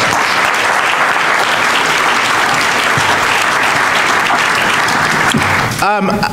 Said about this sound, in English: Another round of applause, please, for Adam